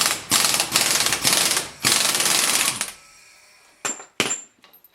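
A ratchet fitted with a large 30 mm socket loosens the driveshaft nut on a Renault Express, giving several loud bursts of rapid clicking, then quiet, then a few sharp metallic clinks.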